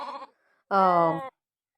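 Sheep in a flock bleat up close: a short call, then a brief pause and a longer, loud, quavering bleat, with no talking.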